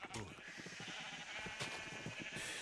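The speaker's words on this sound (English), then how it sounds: "I may have gone a bit overboard with the sheep now that I'm doing this culling process." Sheep in the Minecraft video game bleat repeatedly in quick, overlapping calls, fairly close and moderately loud, with a short burst of noise partway through.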